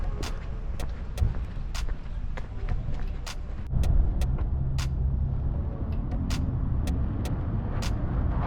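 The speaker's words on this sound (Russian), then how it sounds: "Короче, я доехал до центра на автобус" Inside a city bus on public transport in Bishkek, a steady engine rumble and road noise drone throughout, with scattered sharp clicks and rattles and a slight surge in the low rumble midway, no talking.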